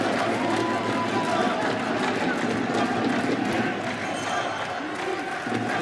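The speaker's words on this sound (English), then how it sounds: "The Egyptians in the crowd singing" Egyptian fans fill an arena at a men's handball World Championship match in Doha, a loud, dense crowd singing and cheering continuously with rhythmic chanting throughout.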